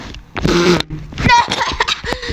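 A loud, rasping fart blasts out near the microphone in a comedy sketch, a buzzy tone lasting about half a second, then a sputtering, uneven burst follows, with scattered noisy rustles and short sounds trailing after.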